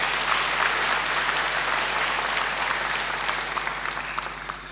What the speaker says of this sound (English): please join with me in giving Emma another great round of applause.